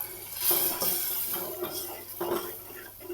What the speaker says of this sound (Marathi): आता ही वरण ह्यात ओतायचं हो का मस्त फुन्नी बसली बघा वरणाला